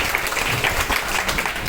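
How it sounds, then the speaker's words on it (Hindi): An audience at a food-donation ceremony claps steadily, a dense, even burst of many hands heard close throughout. "जोरदार तालियां बजती रहे"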